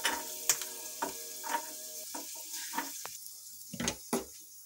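Peanuts roasting in a pan for a Navratri fasting recipe, with scattered crackling pops and brief stirring scrapes over a faint sizzle, close and moderately loud, no talking.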